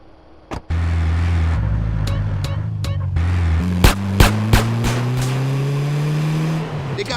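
A car in GTA San Andreas drives during a robbery getaway mission, its engine droning and rising steadily in pitch as it accelerates, with a few sharp gunshot-like cracks over the continuous, loud motor.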